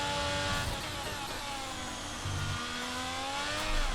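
Formula 1 race car in the game F1 22 at Brazil, engine screaming close and loud as it accelerates, harmonics sweeping upward through gear changes with a brief low rumble midway, steady and alone without talk.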